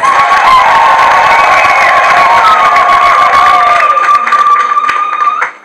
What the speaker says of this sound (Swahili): Hebu mjipigie makofi